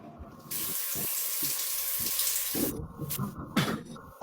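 Tap water runs steadily into a sink during washing up, a loud, close gush with a few clunks near the end and voices speaking over it.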